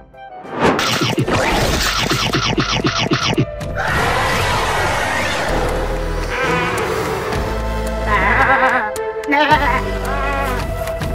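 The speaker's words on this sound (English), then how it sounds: "This is sheep." Animated sheep bleating, several loud wavering bleats with crashing and whacking effects between them, close and filling the whole stretch.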